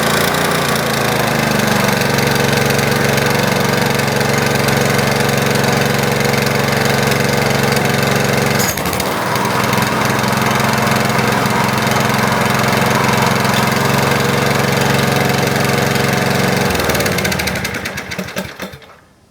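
A DR brush mower fitted with a 30-inch demolition blade runs steadily after startup, its engine drone loud and close with one brief dip partway through, then fading out at the end.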